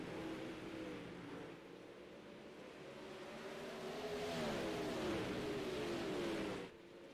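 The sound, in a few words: sprint car engines racing, from the video game iRacing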